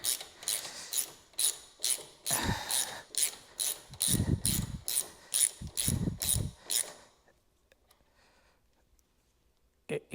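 A hand ratchet cranks in a bolt while a Harley Davidson saddlebag protector is fitted, giving a close, rhythmic run of about a dozen sharp clicking strokes with brief pauses before it stops and falls quiet.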